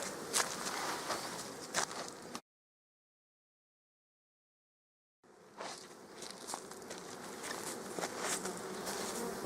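Honey bees hum inside an opened queenless nucleus hive during an autumn inspection for emergency queen cells, a steady close buzzing with faint handling knocks, broken by a few seconds of complete silence midway.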